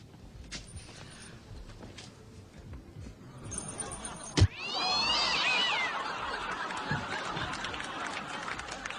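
A cat lets out one drawn-out, wavering yowl just after a sharp thump midway, set against low background noise and scattered faint sounds.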